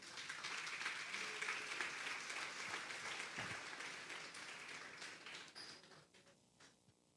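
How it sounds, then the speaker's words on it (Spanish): A church congregation at a Sunday service gives a long, faint burst of applause that swells evenly, then tapers off toward the end. "Vamos a darle un fuerte aplauso, pues."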